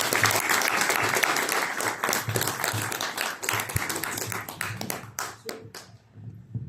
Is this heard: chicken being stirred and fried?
no